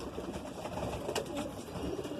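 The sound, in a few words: Madrasi pigeon cooing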